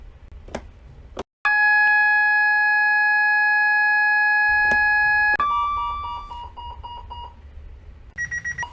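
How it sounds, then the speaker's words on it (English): A loud, steady electronic train toilet emergency alarm tone sounds for several seconds, then shifts to a lower pulsing beep, followed by a few short higher beeps. "If you hear either of these two alarm tones, don't investigate immediately."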